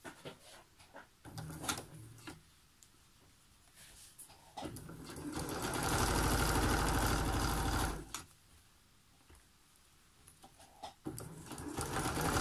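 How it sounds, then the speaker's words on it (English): A sewing machine stitches a seam on an upcycled grocery shopping bag, running in a steady loud burst of about three seconds between quieter handling noises and short starts. "So I'll sew that down."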